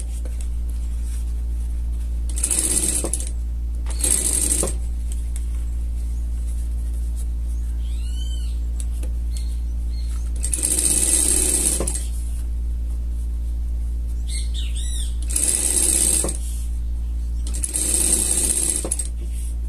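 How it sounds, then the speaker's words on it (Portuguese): A sewing machine runs in short bursts while stitching a seam on a denim pet jacket, several brief runs separated by pauses over a steady low hum, with small clicks in between. "Vamos passar uma costura aqui, deixar só a parte de cima"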